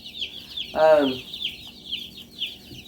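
Day-old Cornish Cross meat chicks chirp in a constant chorus of high, rapid peeps, with one louder, lower cluck-like call rising briefly from the group.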